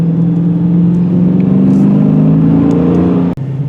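A 2023 Dodge Challenger 392 with its big engine, heard from inside as a loud, steady low rumble that rises gradually in pitch, with a brief cut near the end before settling back.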